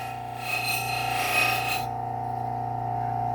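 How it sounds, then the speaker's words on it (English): A pickaxe is pressed against the spinning buffing wheel of a Work Sharp Ken Onion sharpener, giving a close, rasping whir for just over a second before it drops back to the motor's steady hum. "buffing wheel."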